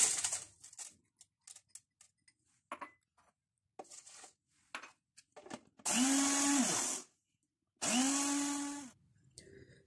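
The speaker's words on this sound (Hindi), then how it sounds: "इसके साथ ब्लेंडर के अंदर इसको सबसे पहले हम ग्राइंड कर लेंगे" An electric kitchen blender grinds soaked rice with about a quarter cup of milk into a fine paste, two loud steady whirring bursts of a couple of seconds each after scattered clicks and handling noises.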